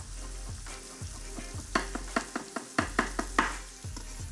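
Thinly sliced garlic goes into a pan for mee goreng, with a quiet sizzle under a series of sharp, rhythmic utensil clacks and scrapes as it is stirred, close by.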